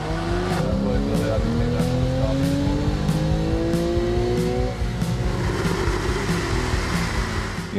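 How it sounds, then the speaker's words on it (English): A car engine accelerates hard, its sound tuned through air supply and exhaust alignment. The rising roar sweeps upward in pitch, shifts and climbs again, and stays loud and close throughout. "The more we accelerate, the more intense the sound."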